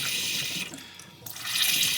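Water running from a tap in a camper during winterizing, a steady hissing gush that dips briefly midway then resumes strongly, with no voices.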